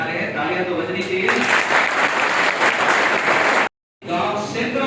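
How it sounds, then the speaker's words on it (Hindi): Audience applause at an Indian felicitation ceremony for selected SSC-GD candidates, a steady dense clapping from a crowd that runs loud for several seconds, cuts out briefly, then resumes. "तालियां तो बजनी चाहिए"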